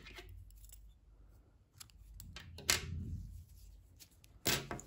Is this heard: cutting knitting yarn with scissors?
yes